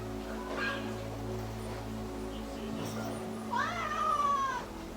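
A cat meows with a rising, drawn-out cry near the end, over a steady low hum and faint background noise; an earlier softer meow is also audible.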